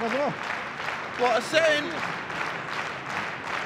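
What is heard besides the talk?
wrestling crowd applauding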